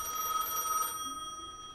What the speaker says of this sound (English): Every time they tell us to answer the phone